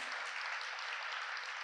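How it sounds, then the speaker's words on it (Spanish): A crowd at an awards ceremony claps steadily, a dense even wash of applause throughout, with no voices. "Nuevamente fuerte ese aplauso para los primeros ganadores"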